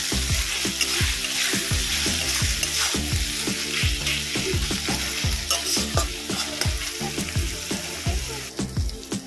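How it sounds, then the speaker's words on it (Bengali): Chopped tomato fries in a pan while being stirred, a steady sizzle broken by rhythmic scraping strokes of the spoon, close and fairly loud with no talking. "এবার দেবো টমেটো কুচি এটাও ভালো করে কষিয়ে নেবো"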